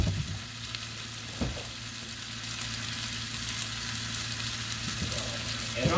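Potatoes and bacon fry in a skillet for a cheesy breakfast, a continuous close crackling sizzle that holds steady throughout, with a couple of brief clanks and stirs.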